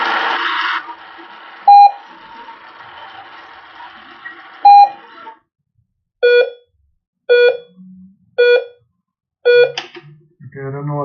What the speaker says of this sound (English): I don't know what all these beeps mean, but the remote is certainly working